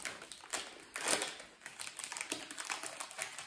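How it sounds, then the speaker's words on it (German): Packaged cheesecake being unwrapped, with crinkling plastic packaging that rustles and crackles in several close bursts over a few seconds and no talk. "Ich muss den nur einmal auspacken."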